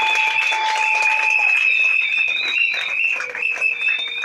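A congregation at a pastor consecration applauds, sustained clapping that fills the room, mixed with held tones and a few voices.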